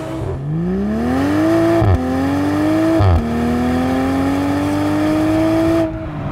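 A rear-drive standard Toyota Supra GTS A90 with 250 kW and 500 Nm accelerates hard on a race track, its engine note climbing steadily through the gears with two brief dips at the shifts, loud and close throughout.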